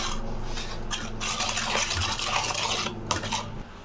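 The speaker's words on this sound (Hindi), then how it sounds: "फिर हम दही लेंगे, उसमें हम रेड चिली डालेंगे, हल्दी पाउडर, नमक, फिर ये सब्जी मसाला, जीरा पाउडर, इन सबको हम अच्छे से मिक्स कर लेंगे।" Yogurt, red chili, turmeric, salt, sabzi masala and cumin powder are stirred together in a bowl. The mixing makes steady, close scraping and clinking with a wet, sloshy texture. No one speaks.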